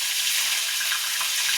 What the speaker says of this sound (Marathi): आपलं तेल तापलंय, त्याच्यामध्ये मी टाकते कढीपत्ता, मिरची